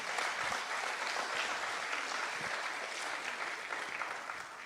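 A church congregation applauds to God, dense sustained clapping filling the room at moderate volume with no break, a faint voice or two buried beneath.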